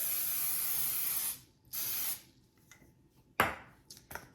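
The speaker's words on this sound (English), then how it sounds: "I'm just gonna spray it again just to make sure I get enough spray on it" Two hissing bursts of cooking spray onto a baking pan, close and loud, followed by a few light knocks and clatters against the pan.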